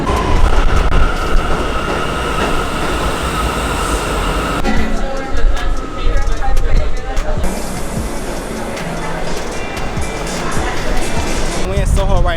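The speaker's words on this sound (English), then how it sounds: "We're gonna get on the subway too for the first time." A New York City subway train rides along with a loud continuous rumble, rattling and brief squeals of wheels, a shift in tone midway as the car moves through the tunnel.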